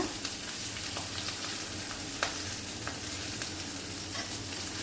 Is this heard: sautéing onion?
yes